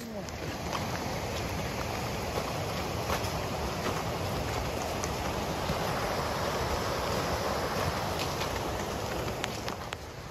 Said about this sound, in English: And it's pissing rain.